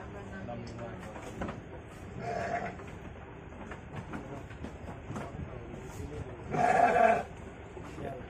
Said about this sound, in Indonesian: untuk proses penimbangannya dari domba-dombanya Pak Parwati ini.